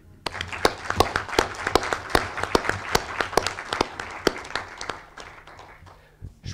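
Applause breaks out at a municipal council meeting honouring a youth council: a moderate round of clapping with distinct individual claps standing out, fairly close, tapering off near the end.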